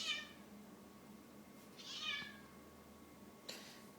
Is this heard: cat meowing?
yes